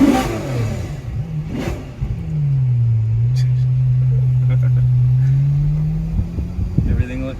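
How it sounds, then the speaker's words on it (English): A Ferrari 812 Superfast engine revved close to a wall: a deep, loud roar climbs and holds steady for several seconds, then falls away, with brief voices before and after. "But give it a little rev with this wall right here."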